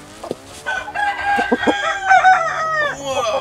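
A heavy, big-legged Shamo rooster crows loudly and close by, then clucks in a run of harmonic calls over a few seconds, with no speech.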